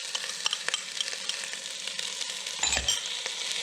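Onion, celery and roasted red peppers sauté in a pan for a shrimp and corn bisque, giving a steady close sizzle broken by frequent scraping stirs and a brief low thump near the end.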